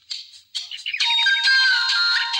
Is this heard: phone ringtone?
yes